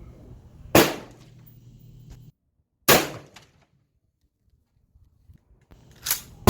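A 1942 Soviet Mosin-Nagant 91/30 rifle with a sticky bolt being cycled: three sharp, loud metallic clacks a couple of seconds apart, each with a short ringing tail and quiet pauses between.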